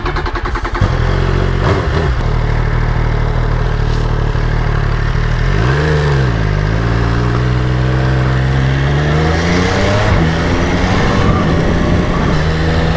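An MV Agusta Brutale Dragster 800 RR motorcycle engine roars steadily up close, revving and shifting through gears as it rides, with its pitch rising and falling.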